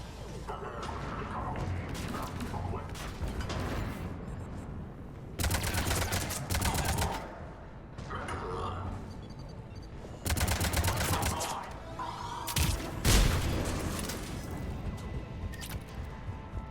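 Cannons fire in the video game Mass Effect Legendary Edition, heavy bursts of rapid gunfire and booming blasts arriving in loud clusters separated by brief lulls, with faint voices in the mix.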